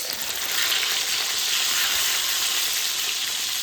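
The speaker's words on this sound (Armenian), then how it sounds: "բուլղարական պղպեղը արդեն մի քիչ տապակվեց" Steady, loud sizzling of bell peppers frying in a hot pan, a continuous crackling hiss with no voices.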